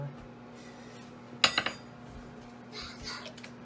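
A utensil clinks and scrapes against a bowl of pecan pie filling with vanilla and corn syrup in a few quick strokes, followed by soft rubbing and stirring sounds in a quiet kitchen.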